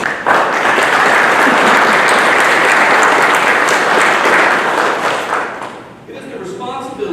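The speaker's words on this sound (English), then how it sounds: "Let's give them a round of applause." An audience applauds guests at the 2019 ICC Alumnus of the Year and Athletic Hall of Fame ceremony: loud, dense, sustained clapping that tapers off near the end as a voice begins speaking.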